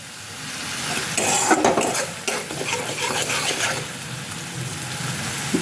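Potato curry stir-fried in oil with jaggery, a spoon scraping and stirring through the pan with a steady sizzle and clinks of utensil against metal; no talking.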